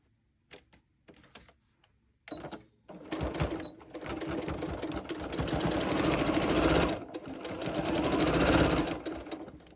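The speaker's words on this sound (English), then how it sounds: "I'm going to do a couple back stitches here, and then I'm going to start sewing along the edge." A sewing machine stitches binding onto a quilt edge, starting with a few short back-stitch bursts, then settling into a long, steady run of rapid mechanical stitching up close.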